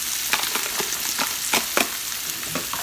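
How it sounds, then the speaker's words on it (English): Chopped onions frying in a pan, a dense steady sizzle close by, with brief brighter crackles and stirring scrapes rising now and then above it. "Next I'm gonna add chopped onions."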